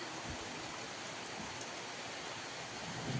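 Rain starting falls as a faint, steady hiss of drops, soft and even throughout a short stretch with no voices.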